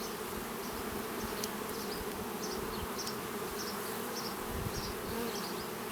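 Honey bees hum around a hive in a dense, continuous buzz, with individual bees whining past close by, no voices.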